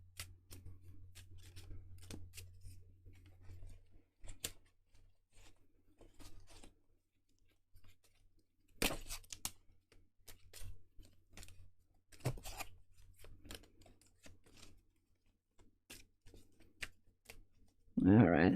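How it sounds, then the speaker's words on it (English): A deck of tarot cards being shuffled by hand, giving a run of soft riffling and snapping bursts at close range, with quiet pauses between and a low hum in the background. "All right, I think I shuffled enough."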